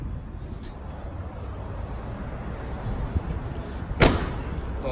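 The door of a 1972 Corvette LT1 roadster swings shut with a single sharp, close slam and latch about four seconds in, after quiet background rustling.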